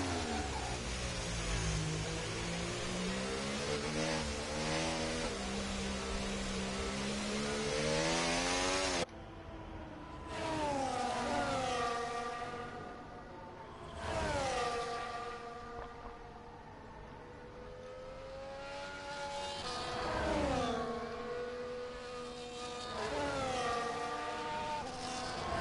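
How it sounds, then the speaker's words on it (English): Racing video game car on a hot lap around an Australian circuit, its high engine whine sweeping up through the gears with repeated sharp downshifts and rises, loud and continuous. "So we're on board with Hammers, who's beginning his hot lap"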